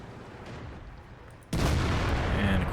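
A tank cannon shot in the World of Tanks video game, from a Rhm.-Borsig Waffenträger tank destroyer: a sudden loud broadband boom erupts midway and rumbles on through the end of the clip over quieter background noise.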